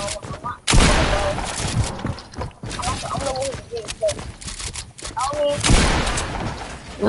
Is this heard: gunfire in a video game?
yes